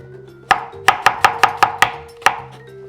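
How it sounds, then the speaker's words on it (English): A knife chops through a red onion on a cutting board in eight sharp, distinct strikes, a close quick run of cuts with one trailing hit, no voice over them. "Just slice it right down the middle, just like this."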